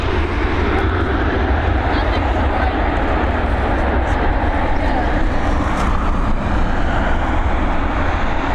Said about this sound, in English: There she is with a butter landing of the day,